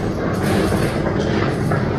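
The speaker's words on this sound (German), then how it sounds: "Da, wo die ganzen Züge drüber fahren." Loud, steady rumble of a train rolling close by overhead, with a continuous rattling clatter filling the whole stretch and no voices.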